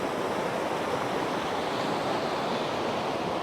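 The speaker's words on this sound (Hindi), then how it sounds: "यहाँ से बहता हुआ दरिया" A river flows past a small village in Kargil, near the Zoji La pass, with a steady, broad rushing of water that continues without a break and stays loud and close throughout, with no voices.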